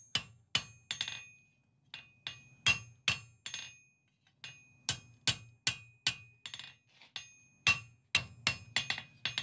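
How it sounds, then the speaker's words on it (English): A ball peen hammer domes rivet heads on flat bit blacksmith tongs, ringing metallic strikes landing one after another in quick uneven groups, loud and close with short pauses between the runs. "we can use the ball peen in a circular motion to put a nice dome on our rivet heads."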